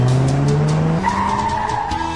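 A car's tires squeal in a loud sustained skid, the pitch shifting midway, sounding like a staged sound effect with no talking.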